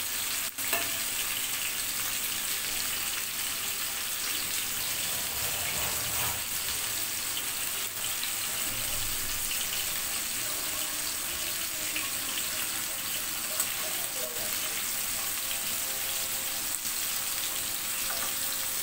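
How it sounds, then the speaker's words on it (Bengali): Hilsa fish fry lightly in hot oil with a constant, moderately loud sizzle and crackle. Occasional soft scraping and shuffling sounds come from turning the pieces over in the pan. No one speaks. "ইলিশ মাছ আমি খুব বেশি ভাজবো না, হালকা করে একটু এপাশ ওপাশ উল্টে পাল্টেই রান্নাটা করব"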